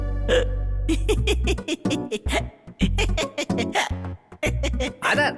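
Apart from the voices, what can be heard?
hiccup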